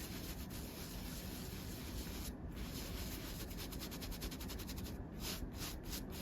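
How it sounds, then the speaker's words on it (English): A couch stain being scrubbed with a baking soda solution: steady, close brushing and rubbing across the upholstery, continuous throughout with a few brief pauses between strokes. "we're gonna give it a good scrub"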